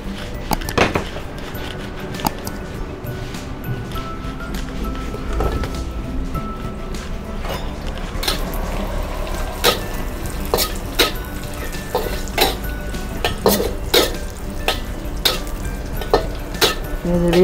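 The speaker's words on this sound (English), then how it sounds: "Frying the raisins." Raisins fry in a little oil in a pan while ghee balls are being made, giving a steady low sizzle broken by sharp clicks and scrapes of a spoon stirring against the metal, close and continuous.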